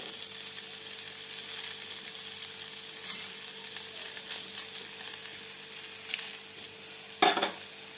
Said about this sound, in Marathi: त्या बटर मध्ये टाकूया आपण आता हे पनीरचे पीस फ्राय करण्यासाठी